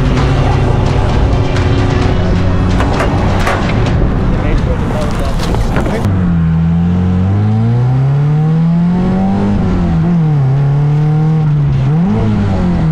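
A loud Honda Accord race car engine roars and revs continuously on track during a 25-hour race, pitch rising and falling through gear changes, with a missed shift midway.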